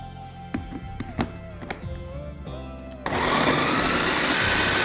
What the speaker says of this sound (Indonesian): Ini saya chopper dulu ya, biar ada ruang.